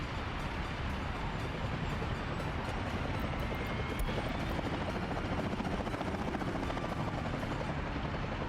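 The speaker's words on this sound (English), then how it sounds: "I heard a helicopter and I wanted to see it." Helicopter in the city-building game Workers and Resources, a steady rotor drone and engine whine holding level throughout, fairly faint and alone.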